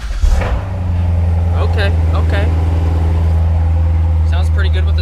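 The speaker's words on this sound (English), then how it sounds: "First we're going to get started with the startup of the car." Car engine with the convertible top down starts with a brief crank and catches, settling into a steady, loud, low idle rumble close by, while a person speaks briefly over it.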